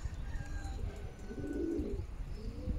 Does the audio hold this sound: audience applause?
no